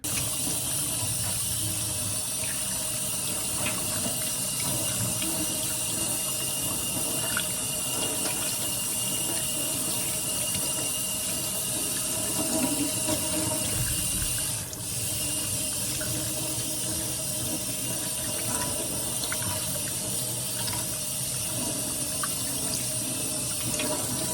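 Tap water runs steadily from a faucet while a doll's hair is rinsed at a sink, a constant close rushing stream with no breaks.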